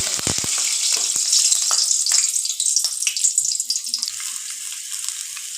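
Cut potato pieces frying in hot mustard oil, with a loud, bright sizzle that opens with sharp crackles and settles into a steady hiss, heard close and without talk.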